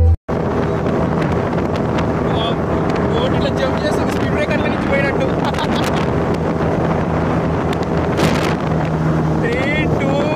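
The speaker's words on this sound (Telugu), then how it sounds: "స్పీడ్ బోట్ ఎక్కడం" A speedboat runs across open water near a bridge, its engine droning under heavy wind buffeting on the microphone, with splashes and people talking and calling out over the steady roar.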